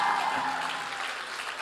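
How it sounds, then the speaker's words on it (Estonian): A conference audience applauds in a short, steady wash of clapping heard at moderate distance, with a faint voice or tone lingering briefly at the start. "Come on, teeme Jumalale aplausi, et ta on nii hea isa."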